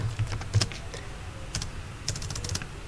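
Computer keyboard keys tapped while entering text in CorelDRAW, with irregular light clicks in small bursts over a low background hum.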